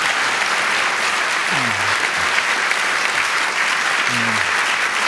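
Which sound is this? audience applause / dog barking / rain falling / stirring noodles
audience applause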